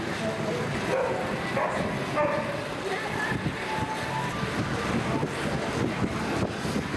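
Cold air from an assault bike's fan blows steadily across the microphone during a powerlifting warm-up, a constant rushing wind noise that fills the whole clip.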